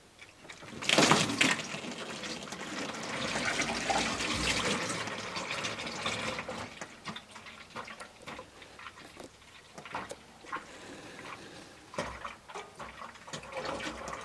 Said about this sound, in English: Let's start by draining the gearbox.